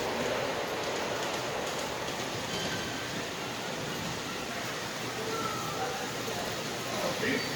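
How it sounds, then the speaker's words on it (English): Freight train passing at Kansas City Union Station, a steady, dense rolling rumble of wheels and rail noise held close and loud throughout, with someone speaking over it. "Amtrak working freight, of course."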